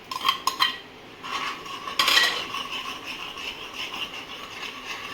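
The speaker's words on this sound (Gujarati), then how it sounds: "ગઠ્ઠા ના પડે એના માટે આપણે સરસ બેટરને હલાવી અને સ્મૂથ કરીશું" Utensil stirring gram flour batter into boiled buttermilk for dhokli, with a few sharp metallic clinks against the pot at first, then a softer steady scraping swish.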